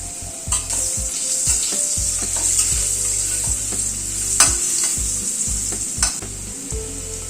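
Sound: potatoes frying with salt and turmeric

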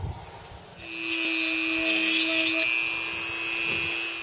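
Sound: drilling a small angled hole above a pipe cap

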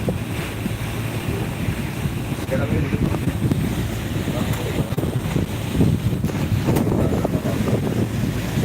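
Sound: fishing boats approaching on a river

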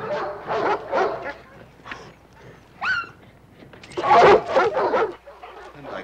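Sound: attack dogs barking guarding the grounds

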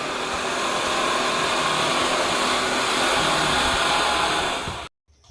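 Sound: sewing machine running

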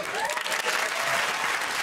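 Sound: studio audience applause

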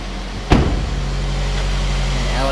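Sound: GMC Terrain engine idling

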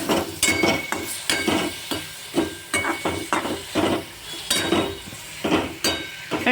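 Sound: stirring tomatoes frying in oil

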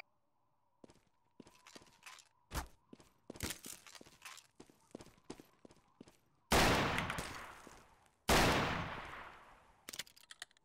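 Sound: shotgun firing in Garry's Mod TTT video game

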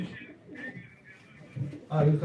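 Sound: pigeon cooing at a live pigeon auction

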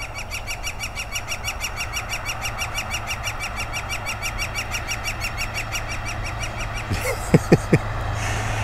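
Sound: woodpecker

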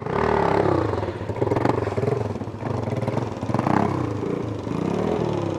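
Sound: dirt bike revving while riding circle wheelies

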